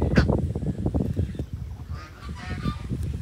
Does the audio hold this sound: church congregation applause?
no